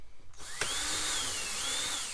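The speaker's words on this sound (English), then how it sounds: "It's time to screw these pieces on" A power drill drives screws into camper table pieces, with a short burst and then a steady rising and falling whine, close and fairly quiet.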